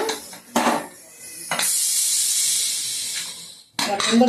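A pressure cooker cooking dal with leafy greens hisses out steam in a steady, loud rush lasting about two seconds, framed by sharp metallic clanks before and after.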